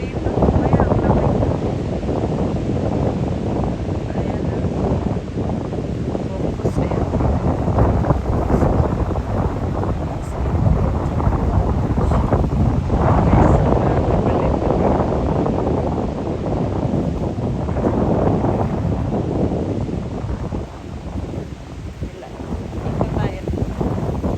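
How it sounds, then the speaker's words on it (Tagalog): Strong, steady wind roars and buffets the microphone throughout, a continuous low rumbling gust with no letup. "super mahangin at ang lamig"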